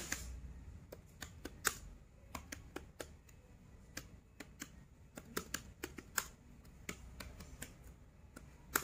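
Rapid, uneven keystrokes on a computer keyboard clatter close by in a quiet room, with a few sharper, heavier taps standing out among the stream of key presses.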